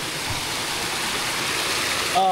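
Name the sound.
Pinaisara waterfall flowing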